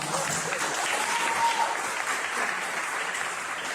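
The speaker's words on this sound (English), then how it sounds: "we want to give them another round of applause" Steady, dense applause from a crowd at an oratorical contest, loud and sustained throughout with no pauses.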